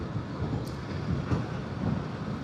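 The Koshi river in eastern Nepal rushes close by, a continuous low, rumbling roar with a broad hiss on top, steady and fairly loud, with no voices over it.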